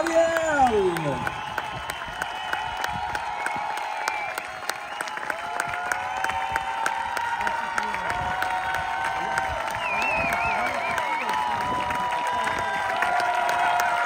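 Sustained applause and cheering from a crowd at a Swedish petanque championship prize ceremony for the open singles medalists, steady clapping throughout with scattered shouts and whoops, voices audible over it.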